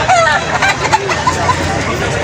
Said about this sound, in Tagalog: Maganda ng mga manok niya, oh.